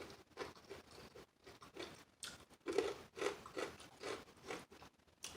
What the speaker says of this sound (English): you gotta love that crunch